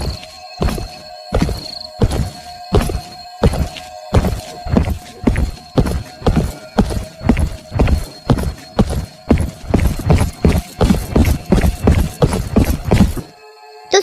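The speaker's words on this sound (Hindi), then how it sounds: "अब सुषमा को पैरों की आहट ज्यादा आने लगी थी।" Rapid, evenly spaced hard footsteps in a Hindi horror story, loud and close, about twenty heavy clopping thuds in a steady rhythm that speeds slightly before stopping abruptly.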